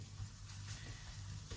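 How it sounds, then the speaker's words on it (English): Tomato sauce sizzling gently in a pan on the stove, a faint soft crackle over a low steady hum with occasional stirring, no talk. "But we do want to just sizzle this up"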